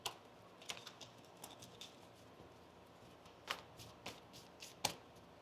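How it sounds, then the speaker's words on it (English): Tarot cards being shuffled by hand: a scattered series of soft, crisp snaps and riffles at uneven intervals, quiet and close, with no talking. "One more shuffle."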